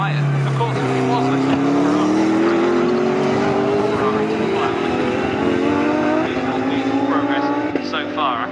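Racing cars, including a Lamborghini, roar past during a British Endurance Championship race at Snetterton, with a loud engine note climbing steadily in pitch as they accelerate and no commentary over it.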